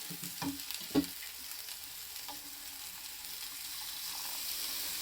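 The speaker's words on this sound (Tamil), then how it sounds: "கொதிக்க ஆரம்பிச்சிருச்சு" Tofu tikka masala curry coming to a boil in a pan with a soft, continuous sizzle, plus a light clink early on and no voices.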